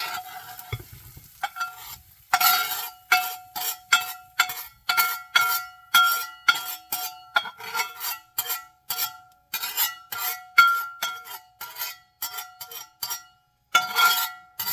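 Repeated quick metallic scrapes and clinks of a utensil against a cast iron pan, in irregular bursts at close range, with a faint sizzle and no speech.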